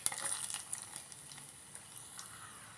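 Fenugreek seeds and dried red chillies sizzle in hot oil as a tempering for an Onam-style sambar. The crackle is soft and fairly close, with light metallic stirring clinks near the start. No one speaks.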